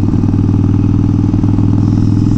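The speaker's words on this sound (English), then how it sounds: "This thing just wheelies. There's no stopping it." An MV Agusta Brutale Dragster 800 RR motorcycle pulls hard in a wheelie, its engine roaring loud and close with a steady, throbbing drone throughout.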